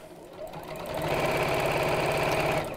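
A sewing machine runs steadily while stitching a seam on a child's apron made of fabric, its motor whirring and needle chattering in a close, even rhythm that swells slightly after the start, with no talking over it.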